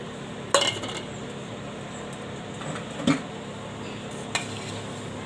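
Jaggery being stirred into a mango pickle in a pot, with a spoon clinking and scraping against the metal in a few distinct knocks over a steady low background hiss.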